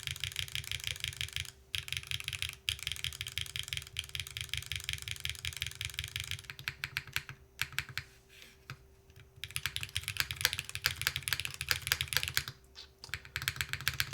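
Rapid, continuous typing on a mechanical keyboard fitted with GMK keycaps, an aluminum plate and a tadpole mount with Cherry stabilizers, clacking steadily close up with brief pauses, over a faint steady background hum.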